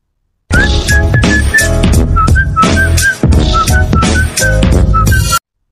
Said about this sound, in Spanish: estoy aprendiendo a silbar. Haces una O con tu boca y soplas.